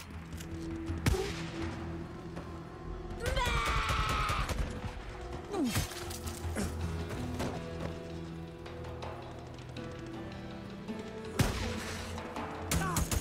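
Gunfire in the video game Days Gone Remastered: scattered sharp shots and short bursts ring out over a busy backdrop of mechanical clatter and game ambience, loudest near the middle and end.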